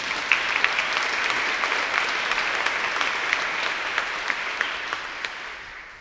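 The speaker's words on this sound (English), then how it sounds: "Another round of applause." An audience applauds during a speech on James Oglethorpe: dense, even clapping from a sizeable crowd holds at steady volume for several seconds, with no voices over it.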